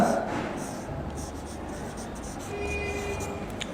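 Writing on a board during an English class, a continuous scratchy scrawl of a pen or chalk across the surface, heard close with faint background noise.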